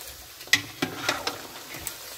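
Pork chicharon fries in very hot oil with a steady sizzle, and a utensil stirs it, giving several sharp clinks and scrapes against the pan. The sound is close and alone, with no talk.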